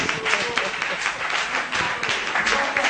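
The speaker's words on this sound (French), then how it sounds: "on va l'applaudir très fort." An audience bursts into loud, dense applause and cheering at a tribute to the founder of a Congolese band, crowd noise filling the whole stretch.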